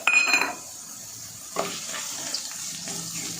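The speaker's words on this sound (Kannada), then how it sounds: "ಲೋ ಫ್ಲೇಮಲ್ಲಿ ಇಟ್ಕೊಂಡೆ ಚೆನ್ನಾಗಿ ಫ್ರೈ ಮಾಡ್ಕೊಳ್ಬೇಕು" Curry leaves and dried chillies frying in oil over a low flame, with a short crackling burst at the start, then a quieter hiss and a few small pops, close by.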